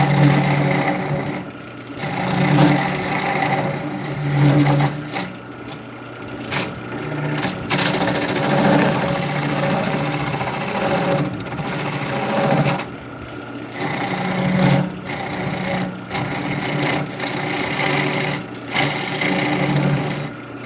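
A woodturning lathe hollows out a big bowl, a close, steady whir overlaid with rhythmic bursts of scraping and chattering as the tool cuts into the spinning wood.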